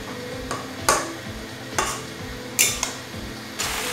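A spoon stirs a pan of potato, cauliflower and onion-greens curry, with a steady low scraping bed broken by several sharp utensil scrapes and clinks against the pan, close and fairly loud.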